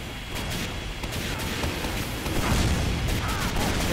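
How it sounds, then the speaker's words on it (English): An explosion in a video game match, heard as a dense, continuous rumbling roar that swells slightly toward the end, with faint crackling debris layered on top. "Bit of an explosion sends them flying"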